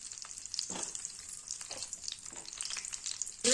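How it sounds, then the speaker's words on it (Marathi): Eggplant pieces frying in hot oil in a pan, a close steady crackling sizzle with occasional stirring scrapes, fairly quiet and without any voices. "वांगे आपल्याला याच्यामध्ये ना फ्राय करून घ्यायचे"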